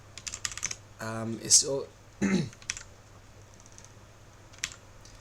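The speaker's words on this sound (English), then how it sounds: "Still adjusting to my new keyboard." Typing on a new computer keyboard with an unfamiliar layout, giving quick bursts of clicking keystrokes near the mic, with a short stretch of speech between the bursts.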